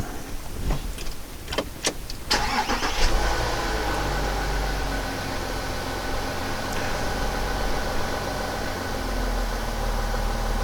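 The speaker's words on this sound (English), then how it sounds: "So we're going to start the car and see if it immediately gets a fault." A VW Touareg with a right rear ABS wheel speed sensor fault cranks briefly with a few sharp starter bursts, then catches and settles into a steady, close idle hum that runs on to the end.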